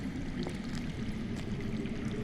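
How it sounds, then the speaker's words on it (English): Underground running water in a Game of Thrones Telltale game scene gives a faint, continuous trickling and pouring wash with no speech. "I hear water. From underground."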